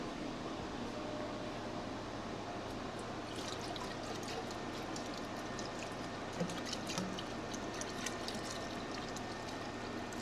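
Parks 50 quench oil pours into a homemade welded-cap quench tube in a blacksmith's shop, a steady continuous trickling wash that runs the full length at moderate level, with faint mechanical hum underneath and no talking.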